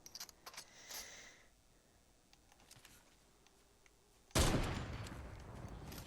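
Gunfire in the video game Fortnite: a few faint clicks and light shots, then a loud, dense burst of firing that starts abruptly and keeps going to the end.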